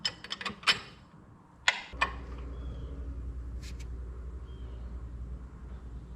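A wrench tightening a hose fitting on a 1961 Chevrolet wagon gives a few quick metallic clicks and taps, then settles into a low, steady engine hum that runs to the end.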